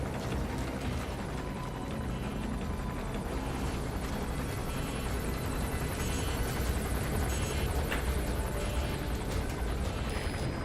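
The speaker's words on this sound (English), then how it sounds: "Here comes my helicopter." A helicopter approaches in the video game Metal Gear Solid V: The Phantom Pain, its steady rotor and engine roar filling the whole stretch at an even level with no voices.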